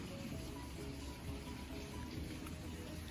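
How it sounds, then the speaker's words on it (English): Steady rain falling over a backyard summer vegetable garden, a soft, even hiss with no breaks and no voices. "And it's a rainy day, guys"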